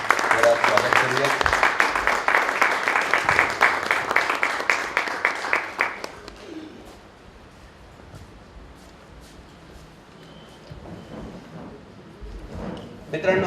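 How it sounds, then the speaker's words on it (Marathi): An audience claps together to welcome a guest speaker, Rajesh Thombre from Chalisgaon, at a Marathi event. The applause is loud and steady for about six seconds and then breaks off into quiet room noise. "सर्वप्रथम आपण त्यांचं सर्वांनी टाळ्या वाजवून स्वागत करूया."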